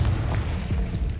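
A spell explosion in a video game sounds as a dull, low boom with a rumbling tail, heavy and muffled across the whole moment.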